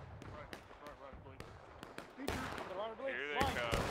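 Musket fire in the Civil War game War of Rights, sharp individual shots cracking at irregular intervals from near and far, growing into denser firing, with voices shouting over it.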